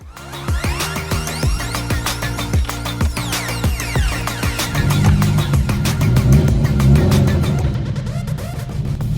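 A Renault R5 Turbo 2 with a 1.4-liter turbocharged four-cylinder making about 225 horsepower, heard from inside as it drives: loud engine note climbing through repeated revs and gear changes, steady and close.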